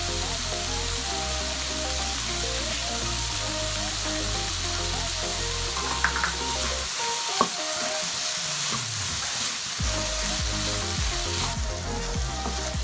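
Vegetables and beans fry in a pan for Mexican rice, giving a dense, loud, steady sizzle with occasional stirring scrapes and small pops, heard close and without any speech.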